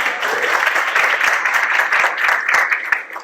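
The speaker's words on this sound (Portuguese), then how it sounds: "Uma salva de palmas" An audience at a talk on recruiting and technical interviews breaks into steady applause, with many hands clapping continuously at an even level for a few seconds.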